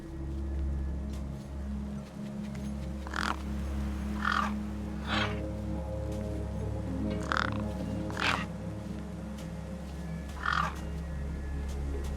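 Carrion birds in the video game Beyond a Steel Sky give about half a dozen separate harsh calls near a corpse propped against a rock. The calls stand out at moderate distance over a steady low ambient hum.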